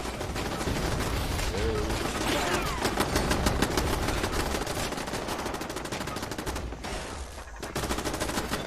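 In the Fallout 76 game, defensive turrets fire their guns in dense, rapid automatic bursts that continue almost without pause, with a voice faintly audible beneath the gunfire.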